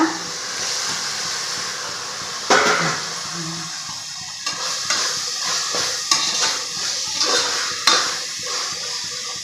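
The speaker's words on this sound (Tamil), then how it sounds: "இப்போ நம்ம தக்காளி சேர்த்துக்கலாங்க" Tomatoes drop into a sautéing onion mixture in a pan for double beans pulao, bringing a burst of sizzle and steam, followed by repeated scraping stirs and metal clinks against the pan, close and fairly loud.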